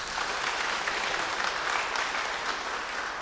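Audience clapping steadily at a Catholic church liturgical music seminar, a dense, continuous round of applause from a seated crowd that holds at even loudness throughout without fading.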